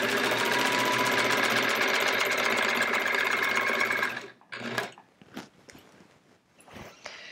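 A sewing machine doing free motion quilting on a quilt border, running in a fast continuous buzzing stitch for about four seconds, then stopping, followed by a few short bursts and handling noises.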